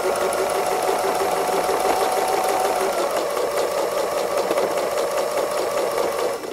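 A sewing machine runs steadily and loud up close, doing free motion zigzag embroidery on a robin design, a dense continuous whirring with no pauses.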